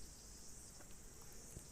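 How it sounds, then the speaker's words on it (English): Crickets chirp outdoors in a continuous, shrill, even drone, with no pauses and no other sounds standing out. "I'm just letting you listen to the crickets outside while you think about that."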